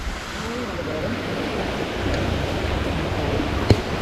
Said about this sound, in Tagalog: Bumaha ng ilog oh.